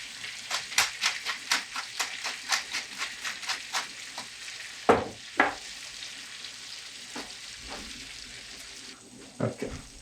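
Onions for French onion soup are tossed into a hot pan, giving a run of quick rhythmic clatters and stirring scrapes over a soft sizzle, with a couple of louder knocks midway and near the end.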